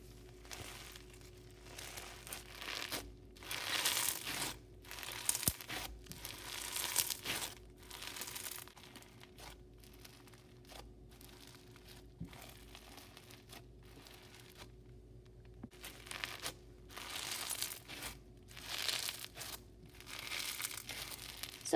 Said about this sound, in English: But yes, this slime was great and very crunchy.